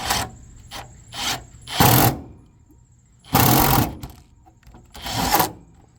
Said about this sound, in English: I'm gonna pre-drill the hole first